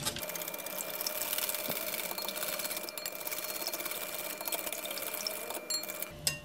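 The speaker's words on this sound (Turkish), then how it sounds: "Tekrar çırpmaya devam edelim." Eggs being whisked with yogurt and oil in a bowl, likely with an electric mixer: a steady, fairly loud whirring drone that runs almost unbroken, with a brief dip near the end and no talk.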